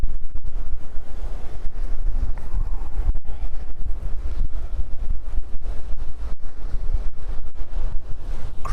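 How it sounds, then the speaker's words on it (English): Strong wind at JFK airport buffets the microphone in heavy, roaring gusts, a loud continuous rumble with sharp dropouts and no voices. "Yes, it's absolutely windy here."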